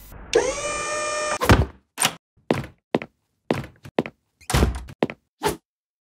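A magical door of knowledge slams shut in a short animated film: a sustained rising whir, then a heavy thunk followed by a string of sharp knocks and thuds in an irregular rhythm, loud and close, with no talk.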